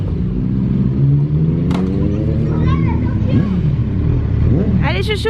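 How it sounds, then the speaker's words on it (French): Motorcycles riding off nearby: a loud, continuous engine rumble with rising revs as they pull away, while children and adults chatter over it. "on va essayer de les regarder partir, faire les kékés en moto"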